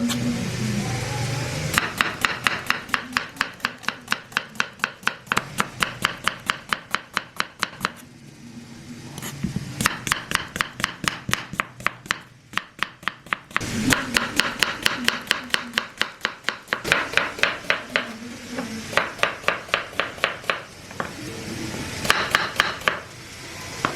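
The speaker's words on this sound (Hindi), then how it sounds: "प्याज लिए हैं, इसको बारीक बारीक काट लेते हैं।" Four small onions finely chopped with a knife on a board, rapid close-up rhythmic tapping in several long bursts separated by short pauses.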